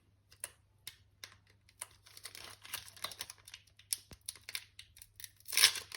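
Pokémon Sun and Moon booster packs being torn and crinkled open by hand, a run of close, sharp foil rips and rustles that builds to a loud tearing burst near the end, with no talk.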